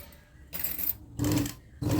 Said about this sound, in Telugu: ఇలా వేయటానికల్లా మిషన్ కంట్రోలింగ్ బాగా రావాలి పాయింట్ దగ్గర నీడిల్ దింపుకో